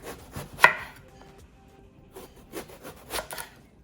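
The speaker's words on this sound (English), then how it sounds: "I have got 2 aubergines here, and I'm just going to slice them into kind of centimeter thick" A knife slicing two aubergines into centimetre-thick rounds on a board, a handful of soft crunchy cuts at an uneven pace, close up.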